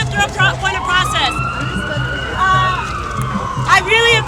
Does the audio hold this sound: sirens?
yes